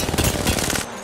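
Rapid automatic gunfire from Apex Legends rattles loud and close in a dense burst of fast shots lasting about a second, with no talking.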